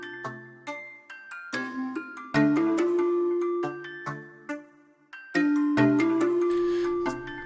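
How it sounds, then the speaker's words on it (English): A bright, somewhat harsh bell synth built in FL Studio plays a clear melody of ringing notes, some short and plucked, others sustained and overlapping, loud and upfront with no voices. "And the bell is a little bit harsh."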